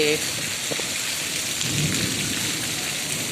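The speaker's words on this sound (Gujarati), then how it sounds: "તો કડાકા બડાકા થઈ રહ્યા છે" Heavy unseasonal rain pours steadily with wind in Gadhada while a low rumble of thunder rolls through midway, with a brief voice at the start.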